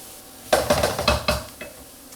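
Clattering and scraping of a pan being stirred as onions sizzle steadily, a few sharp knocks in quick succession, then quieter frying.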